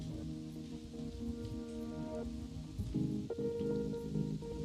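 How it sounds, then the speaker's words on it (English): Soft steady rain patters beneath a calm music track on a ketamine-assisted therapy playlist, the drizzle blending with sustained melodic tones and no voices. "there's that rain sound again"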